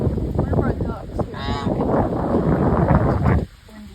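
Muscovy ducks kept as backyard birds call in loud, close honking and hissing bursts that run almost continuously, then cut off abruptly near the end, leaving quieter background.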